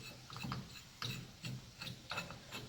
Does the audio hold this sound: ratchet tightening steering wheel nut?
yes